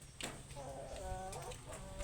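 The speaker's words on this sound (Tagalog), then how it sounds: "Mga manok mapipangguwa." Chickens cluck and murmur softly nearby, a few short calls rising over a low background hum.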